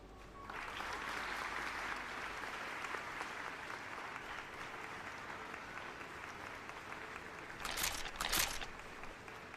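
Crowd applause for a live game-development stream participant, steady and fairly distant across the whole stretch, with a brief louder burst of clapping near the end.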